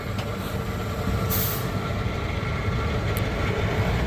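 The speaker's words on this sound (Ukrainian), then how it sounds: "Аж Камаз почав швидше їхати, як побачив нову резину, да?" A Kamaz military truck drives along, its engine a steady, loud rumble with a brief air-brake hiss near the middle and a short hiss later; no one speaks.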